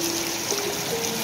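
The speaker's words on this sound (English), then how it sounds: "got another little water feature" A small decorative water feature at the Madonna Inn hotel in San Luis Obispo trickles steadily. It is a soft, continuous dribble of water, moderately faint and heard alone.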